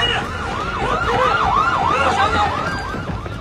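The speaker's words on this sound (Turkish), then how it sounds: "Çalsın, çalsın sirenler. Sirenler çalsın." A police siren wails up and down in repeated sweeps, loud and steady, with traffic rumble and a brief voice underneath.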